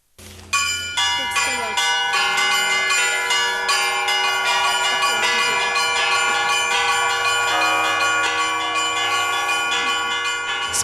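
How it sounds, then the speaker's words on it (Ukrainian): Church bells of all the city's churches ring out in a continuous, overlapping peal, bright and resonant, with repeated strikes layering into a dense ringing chorus. "Усі храми міста починають передзвін."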